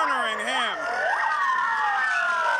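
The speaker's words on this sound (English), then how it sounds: "I counted 5 patrols, five police cars." Several police car sirens wail and overlap loudly during a street chase after a scooter, rising and falling tones layered over steady traffic noise.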